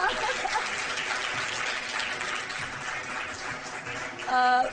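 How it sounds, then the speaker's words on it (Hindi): Studio audience applause on a Pakistani morning talk show, a steady wash of clapping throughout, ending with a brief musical sting. "बजाओ तालियां।"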